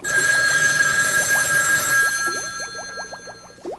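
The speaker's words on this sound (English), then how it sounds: "Oh, it sounds like the phone." A telephone ringing indoors, loud and close with a bright bell tone, as other clattering sounds come in under it near the end.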